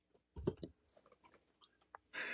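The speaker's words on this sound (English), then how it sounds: "I heard the chewing." Someone chews gum close to the mic, with a few soft, wet smacks and clicks in quick irregular bursts separated by near silence, ending in a short burst of hiss.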